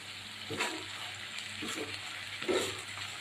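Ground meat sizzles quietly in a frying pan, broken by three soft scraping bursts of stirring at roughly one-second intervals over a low steady hiss.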